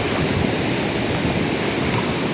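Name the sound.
sea waves at Suryalanka beach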